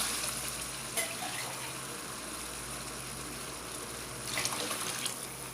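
About 1.5 glasses of water pour steadily into a pot of soaked rice for mutton keema pulao, a continuous soft splashing rush with slight surges, no one speaking.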